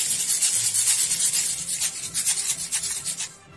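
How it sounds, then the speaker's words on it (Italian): A homemade shaker filled with coarse salt is shaken in a quick, even rhythm, giving a close, continuous gritty rasping hiss with no voices. "Lo chiudiamo e creiamo quello che sembra più uno shaker che una maraca."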